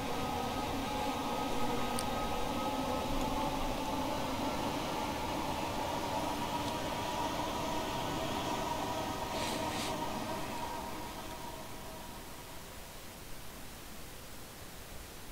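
Train passing in the Train Sim World video game on a UK line, a steady broad rumble and rush of rolling stock that holds loud for several seconds then fades as it moves away, with no talking.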